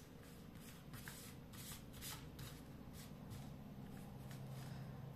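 Tarot cards are shuffled by hand in a steady, soft riffling and sliding rustle that runs continuously and close, with no voices present.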